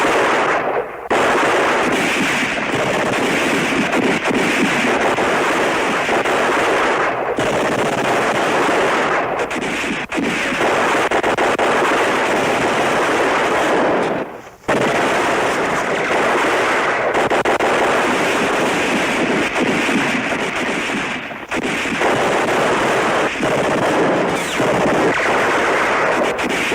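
Heavy battle gunfire and artillery from a war TV drama, with continuous loud volleys and booming blasts layered densely for the whole stretch and only brief dips in the barrage.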